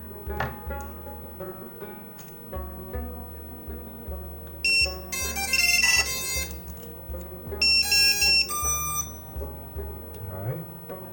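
Bursts of high, shrill electronic beeps from a 7-inch FPV drone's buzzer powering up sound in two short clusters partway through, over a steady low hum and some background talk.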